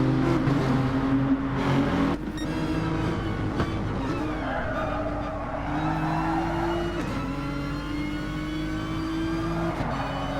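Nissan GT-R race cars lapping Fuji in a racing league, their engines roaring loudly as the pitch climbs and falls through gear changes, with tyre squeal and other cars blending into a continuous close-up drone.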